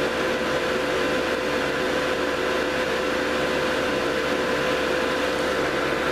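Steady, unbroken rush of cooling fan air over a GS-35B tube with a faint tonal hum, constant and loud throughout with no voices.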